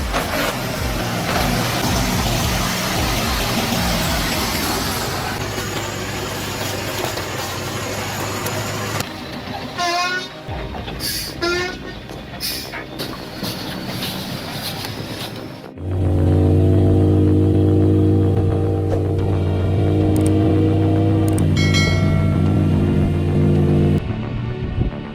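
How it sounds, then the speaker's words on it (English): A heavy wood truck hauling a load up steep rocky slopes, its engine roaring loud and steady for most of the stretch, with a deeper, stronger surge of engine drone in the later half and no talk. "the roar of the engine blends with the sounds of nature"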